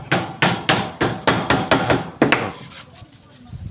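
Nails are hammered into wood while building a stage, about ten loud, close blows in an even rhythm, each ringing briefly before the strikes stop.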